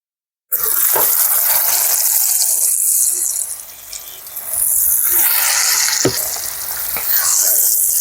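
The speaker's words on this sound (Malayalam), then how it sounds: "നമ്മുടെ എണ്ണയൊക്കെ ചൂടായിട്ടുണ്ട് നമുക്കിനി ചിക്കൻ്റെ പീസുകൾ ഇതിലേക്ക് ഇട്ട് കൊടുക്കാം" Chicken pieces for a Kerala-style chicken fry dropped into hot oil, a sudden loud sizzle erupting after a moment of silence, fading slightly midway and then swelling again, with a few sharp clacks of a utensil.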